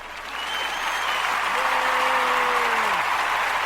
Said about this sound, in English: Where's our round of applause button?